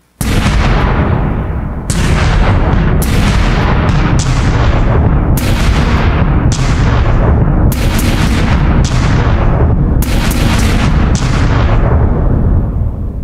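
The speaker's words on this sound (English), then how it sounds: "Or subsonic war drums." Subsonic war drums effect played on a Korg Nautilus synthesizer, booming cinematic hits landing roughly once a second over a constant low rumble, loud and heavy throughout.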